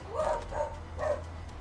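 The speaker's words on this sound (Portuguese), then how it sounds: "Minha cachorra tá latindo aqui" A dog barks three times in quick succession, medium distance, over a low steady background hum, with a pause after the third bark.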